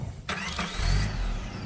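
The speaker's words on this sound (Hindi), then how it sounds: "आरव ने चुपचाप कार आगे बढ़ा दी।" A car engine cranks and catches, then settles into a low rumbling run as the car pulls away, heard alone and fairly close in a short burst.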